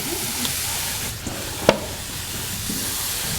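Mushrooms and garlic sautéing in a pan make a steady, close sizzle with one sharp metallic click midway and no voices.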